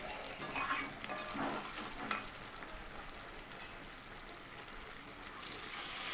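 Water poured into a pot of sautéed mutton curry masala with potatoes produces a soft rushing hiss and bubbling that peaks early with a brief clunk, then settles into a quiet steady simmering wash.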